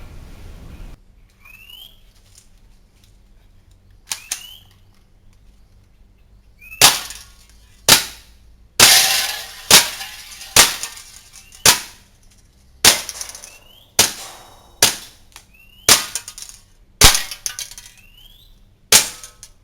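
A WE M&P airsoft pistol, soaked in water, fires a series of sharp, loud cracks, about a dozen shots at roughly one-second intervals after a quiet start with faint clicks and a brief whistle.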